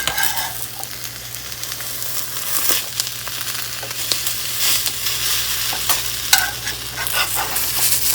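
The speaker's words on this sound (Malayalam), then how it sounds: "ബ്രെഡിൻ്റെ അതർ സൈഡും കൂടെ നന്നായിട്ട് കുക്കായി കഴിയുമ്പോൾ നമുക്കിത് ഫോൾഡ് ചെയ്ത് കട്ട് ചെയ്തെടുക്കാം" A bread omelette frying in a pan gives a steady sizzle with occasional stirring and scraping clicks, close and continuous throughout, with a low hum beneath and no talking.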